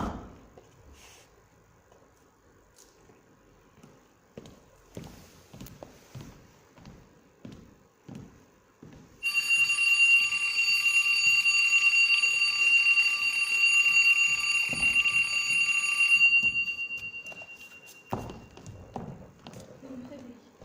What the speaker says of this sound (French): Ce réveil, c'est le réveil de la cuisine.